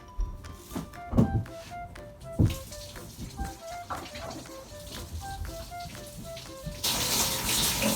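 A tap runs while play dough is being made at home, with water splashing into a sink amid knocks and clatter, and the flow swells to a louder gush near the end.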